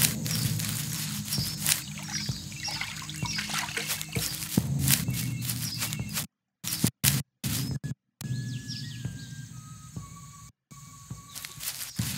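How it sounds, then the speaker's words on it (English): Soft water trickling and dribbling in a game world while collecting water near water striders, a steady faint flow with brief dropouts and a few high tonal game sounds toward the end. "Alright, so time to get some water."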